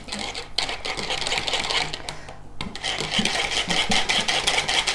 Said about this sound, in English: I'm going to whisk that together.